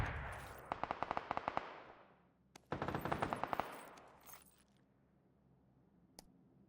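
Bursts of Tommy Gun fire in the online shooter PUBG: a rapid rattling volley, a brief pause, then a second sustained burst, followed by quieter clicks and a single late shot.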